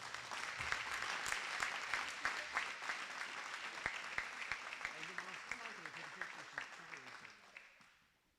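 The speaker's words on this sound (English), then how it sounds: "Let's give Kennedy a round of applause." Audience applause at an FFA banquet, a room full of people clapping steadily at close range before the clapping thins and fades out near the end.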